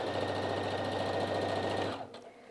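A Brother Innov-is F420 sewing machine runs at its 850-stitches-per-minute top speed, a loud, steady rapid whir and needle chatter that cuts off near the end, leaving a few faint clicks.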